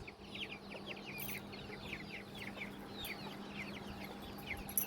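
Chickens cluck softly and repeatedly in the distance, a busy stream of short calls over a low steady hum.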